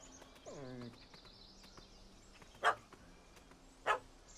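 A puppy in The Witcher 3: Hearts of Stone barks at a cat up a tree. A short whining yelp is followed by two sharp, separate barks, moderately close, over quiet game ambience.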